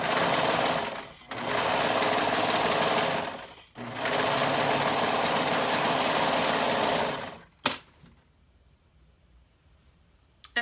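A serger stitches a half-inch fabric seam, humming in three loud, fast, steady runs with short pauses between them, close up, then stopping.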